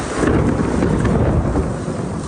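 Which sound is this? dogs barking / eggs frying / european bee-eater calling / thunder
thunder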